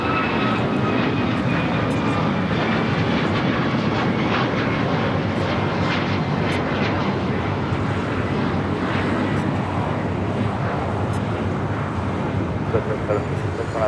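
A jet aircraft engine roars steadily at LAX airport, loud and continuous with wind buffeting, while faint voices talk underneath.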